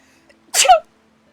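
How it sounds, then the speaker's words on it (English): A single sharp sneeze, close and loud, bursting out of near silence and ending quickly. "Oh, I'm gonna sneeze."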